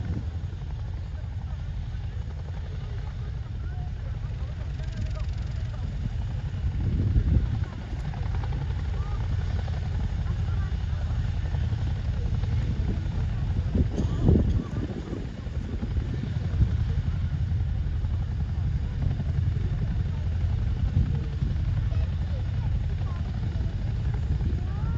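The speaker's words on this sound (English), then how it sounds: "As the aircraft gently corkscrew climbs into the hover" A Chinook helicopter at an RAF Cosford airshow climbs in a gentle corkscrew into a hover, its heavy low rotor drone steady and loud throughout, with talk running over the top.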